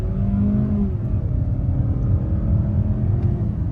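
A 2026 Mazda CX-30 with a 6-speed automatic accelerates back up to speed, its engine a steady, close, moderately loud rumble with rising tonal whine throughout, no talk.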